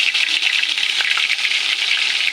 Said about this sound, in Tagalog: magpiprito tayo nitong chicken skin